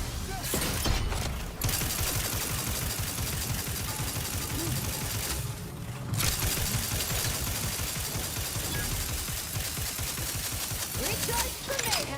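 Sustained, dense gunfire from the video game The Outer Worlds 2, a steady barrage of rapid shots running almost without pause, with a couple of brief lulls, mixed with game sound and some voices.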